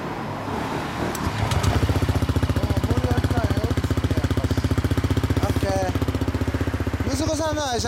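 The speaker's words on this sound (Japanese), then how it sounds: "エンジン音聞かせてもらえますか。" A 2016 Yamaha VMAX motorcycle (RP22J, 60th anniversary color model) idles steadily after starting, a deep rhythmic engine throb running throughout, with brief speech near the end.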